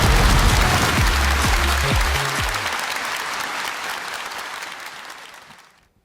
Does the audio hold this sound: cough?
no